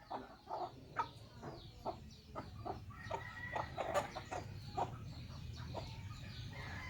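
Native chickens in a backyard give repeated short clucks in an uneven rhythm, fairly faint and close by, with no talking.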